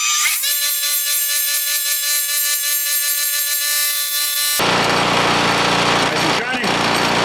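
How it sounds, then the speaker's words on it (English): A high, steady motorized whine drones for several seconds, then shifts to a rougher grinding buzz as a ladder Damascus steel blade is pressed against a spinning buffer. "I'm gonna give this a quick buff"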